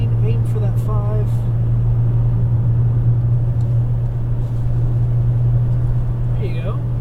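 Nissan GT-R lapping NOLA Motorsports Park, its engine a steady low drone heard from inside the cabin, with an instructor's voice talking over it at times.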